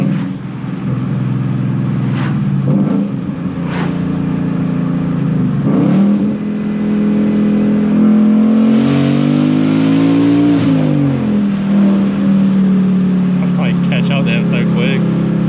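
A 2019 Ford Mustang GT accelerates hard at full throttle, its engine note rising and falling through gear changes, loud and close, with people talking over it.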